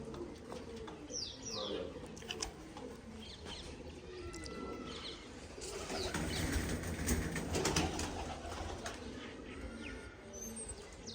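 Faint, low pigeon cooing rolls on in the background, with occasional chirps and a brief flutter of wings, fairly quiet throughout.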